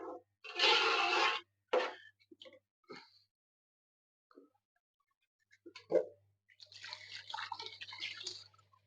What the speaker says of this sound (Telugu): వాటర్ వేసుకున్నాం కప్పు వాటర్ వేసుకున్నాం